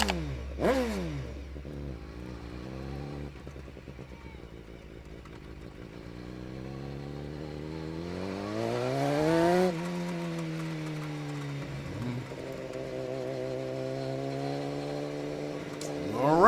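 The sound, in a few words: BMW HP4 Race superbike engine, onboard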